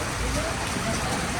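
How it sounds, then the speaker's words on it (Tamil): Rain falling at an outdoor fish market, a dense, steady hiss of drops on surfaces filling the whole stretch, with indistinct voices mixed under it. "மழை பெய்யும் எல்லாம் ஒதுங்கி இருக்காங்களே."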